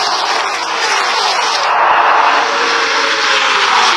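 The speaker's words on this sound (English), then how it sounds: "It'll take them about a lap or lap and a half to get these engines wound up with that restrictor plate." NASCAR Busch Series race car engines with restrictor plates roar in a continuous loud, steady drone as the pack runs at speed on the track, with no clear pauses.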